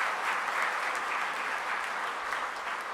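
Broadband applause from a church congregation fills the space evenly, a steady wash of many hands clapping for about three seconds with no voices over it.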